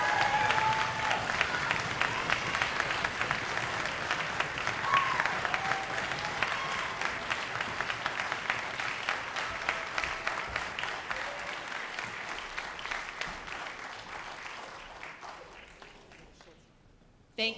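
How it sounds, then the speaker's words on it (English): An audience at a school band event applauds theater directors called onstage, loud sustained clapping with a few voices in the crowd that gradually thins and fades toward the end. "give them a round of applause as well"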